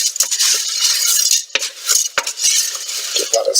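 Rinsed, slightly dried yellow split peas tipped into a pot for Canadian split pea soup with ham, giving a dense, continuous rattling patter against the metal with a couple of brief breaks, close and fairly loud, no talking.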